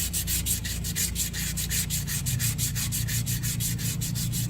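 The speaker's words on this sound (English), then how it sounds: "I don't even know what grit sandpaper this is. It's pretty fine." Fine sandpaper rubbing over a tire repair on a Mule 2510 utility vehicle, a steady rhythmic back-and-forth rasping stroke repeated about four times per second, close and even, with no talking.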